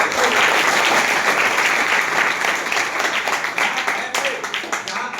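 Loud, dense applause from a Hindi class audience, sustained clapping that stays strong throughout and thins slightly toward the end.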